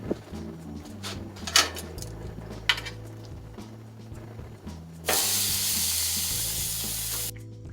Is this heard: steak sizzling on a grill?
yes